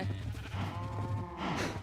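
Sheep bleating in a video game, a few wavering nasal bleats at moderate volume with a breathy burst near the end, no talk over it.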